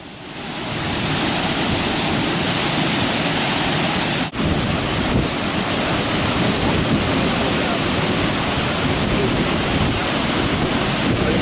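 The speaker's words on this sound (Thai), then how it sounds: "น้ำตกทักวอยหรือว่า ช้างนะครับน้ำตกช้าง" Elephant Waterfall (Thac Voi) near Dalat, Vietnam, roaring as a steady, loud, dense wash of rushing water that barely varies from start to finish.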